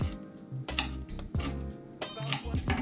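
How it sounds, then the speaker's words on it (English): A knife slices rolled leaves into thin chiffonade ribbons on a board, a series of close, crisp chopping taps falling in small irregular bursts. "This is technically called a chiffonade"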